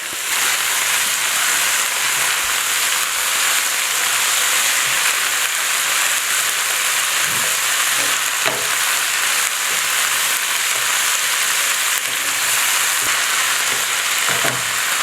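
Green seasoning and minced garlic frying in a hot pan, a loud continuous sizzle with occasional soft clicks of stirring, close by and without talk.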